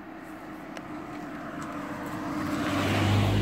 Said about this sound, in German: Kommen die Autos.